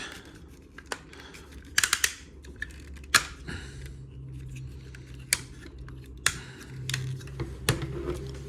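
Plastic parts of an MP-57 Skyfire transforming toy fold and snap into place, with sharp close clicks and ratcheting joint sounds coming in scattered bursts against a quiet room, no voice present.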